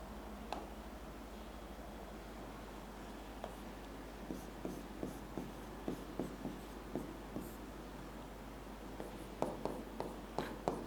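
A teacher writes a note on organic chemistry isomerism, with a run of soft scratchy strokes and taps over a steady low hum and hiss, fairly faint and close, with no talking.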